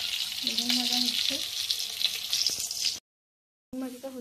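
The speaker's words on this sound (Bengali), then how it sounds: "দেখো বেগুন ভাজা হচ্ছে" Eggplant slices frying in oil, a close continuous sizzle with brief utensil taps, cut off by a short silence before the sizzling resumes; a faint tone sounds in the background.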